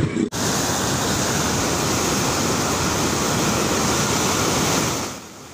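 Floodwater rushes through a street intersection on the road toward Salem, Brebes, during flash flooding after heavy rain, a loud, steady, roaring wash of water that continues unbroken and drops off at the end.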